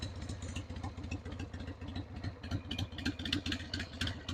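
A 2000 Harley-Davidson Sportster idles after a warm start, a steady low, lumpy engine rumble with a rapid uneven throb and mechanical clatter, heard close and fairly quiet throughout.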